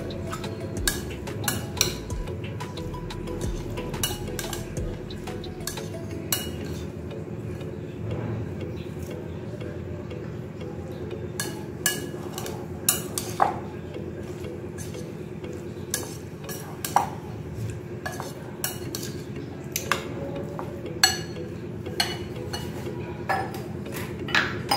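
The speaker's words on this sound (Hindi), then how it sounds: "मिक्स कर लेंगे।" Spoon scraping and clinking against a bowl while daana methi salad ingredients are mixed together, a steady run of small ticks and taps throughout, close and fairly quiet.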